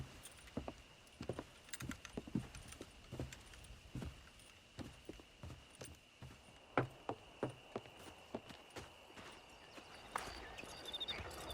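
Horse hooves clip-clop in an uneven, continuous walking rhythm for the whole stretch, moderately close, with light jingling tack mixed in, all in the Red Dead Redemption game.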